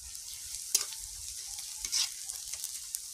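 Ginger paste and green chili paste sizzle and fry in a pan over a home stove, a steady crackle with a couple of louder spatters as the mixture is stirred.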